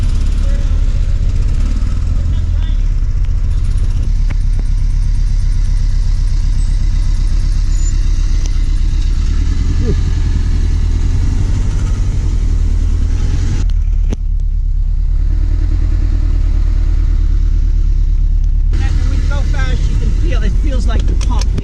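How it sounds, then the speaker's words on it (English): Original-owner Toyota Previa van engine idling close by, a continuous low rumble with a steady hum underneath, while people talk over it for most of the stretch. "the engine sounds a little bit"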